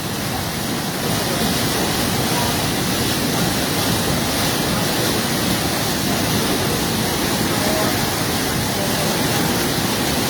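Rushing floodwater of the Khowai river swollen by heavy rain, a loud, steady broadband roar of fast current that stays constant throughout with no pauses.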